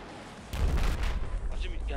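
Battlefield 4 tank cannon booms out with a heavy low blast, then rolling gunfire and battle noise carry on loud and dense as a voice talks over the din.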